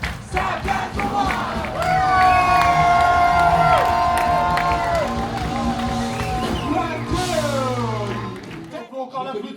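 A concert audience at Bobino in Paris at an 80s-90s show cheers loudly, a dense crowd roar with whoops and sustained shouting that fades at the end.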